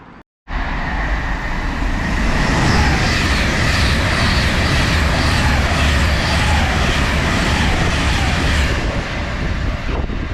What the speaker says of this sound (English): Passing through there is a service from Manchester Piccadilly to London Euston, formed of 39148